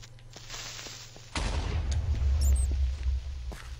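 In the Minecraft video game, an explosion bursts with a sudden loud boom partway through, followed by a deep rumbling tail that fades out slowly.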